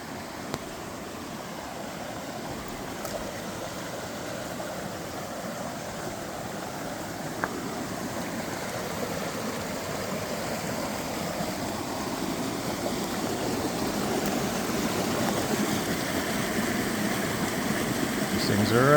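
Water streaming past boulders and around small islands in a creek, a steady broadband rush that builds slightly louder toward the end, fairly close with no talking.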